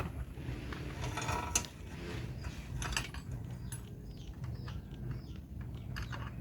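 A nut being unscrewed from the wheel of a child's bicycle, giving close, intermittent metallic clicks and ratcheting scrapes against a steady low background, with no talking.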